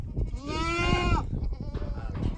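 A goat on a Texas animal farm lets out one long, loud, quavering bleat close by, followed by quieter farm background and brief voices.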